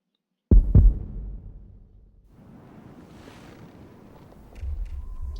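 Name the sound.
heartbeat sound effect in video game Chrono Cross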